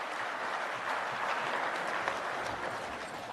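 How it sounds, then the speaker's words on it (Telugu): Audience claps after a group recitation at a Geeta Maitri Milan gathering in Tirupati, a steady, dense wash of many hands clapping from a large hall crowd throughout. "మనం కొట్టే క్లాప్స్ పైన ఉన్న శ్రీవారికి కూడా వినపడాలి."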